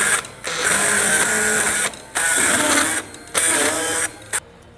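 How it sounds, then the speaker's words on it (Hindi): A hand-operated grinder chops onion pieces in loud whirring bursts, four rapid mechanical runs separated by short pauses, close and without talk. "ये प्याज हमने थोड़ा छोटा करके इसको हम बारीक कर लेंगे हैंड ग्राइंड के साथ।"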